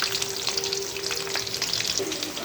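Continuous loud sizzling of onions frying in a pan, crackling steadily throughout with a faint hum underneath.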